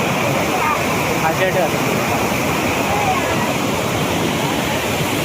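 Water pours down the concrete slope of Karav dam near Vangani, a steady, loud roaring rush that stays constant throughout, with a voice speaking briefly over it.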